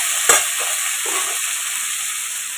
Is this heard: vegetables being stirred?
yes